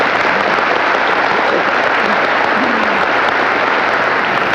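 Continuous audience applause fills a gathering in Congress on National Flag Day, a thick, even wash of many hands clapping at constant loudness with no break.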